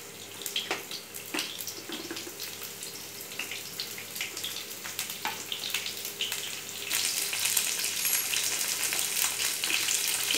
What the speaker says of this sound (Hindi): मेरा ऑयल गरम हो गया, अभी जो फ्लावर लिया, फ्लावर कट के धो के रखा, वो मैं पहले थोड़ा फ्राई कर लूँगी।